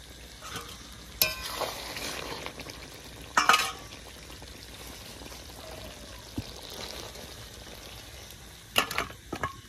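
Fish roe fritters are stirred through curry gravy in a pan, a low sizzling bubble broken by a few sharp scraping clinks of the spoon against the metal, close and fairly quiet.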